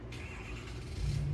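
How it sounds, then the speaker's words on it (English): A car engine starts nearby, rumbling steadily low in the background and swelling slightly louder near the end, with no talk over it. "He hears the neighbors starting their car."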